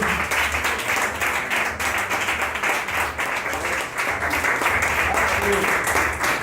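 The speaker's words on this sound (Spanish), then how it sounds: "Dar un fuerte aplauso al Señor." Steady, dense applause from a church congregation at an evangelical service fills the space, continuous and fairly loud for several seconds with a faint low hum beneath.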